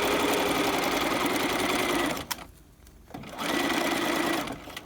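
A sewing machine stitches a raglan collar in steady, loud, continuous runs, pausing briefly for about a second midway before resuming the fast even whir.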